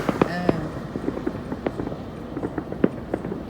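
Firecrackers and fireworks go off in a city on New Year's, with scattered sharp pops and crackles at a distance while someone talks over them.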